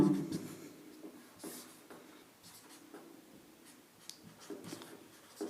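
Chalk or marker strokes on a classroom board during a Sanskrit grammar lesson, with short scratchy bursts of writing spread across the clip at moderate distance, with no speech.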